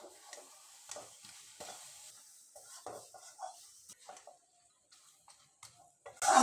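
Mango pickle being stirred in a wok with vinegar and spices, a spoon scraping and clicking in short irregular strokes, fairly quiet and close, with a louder knock at the end.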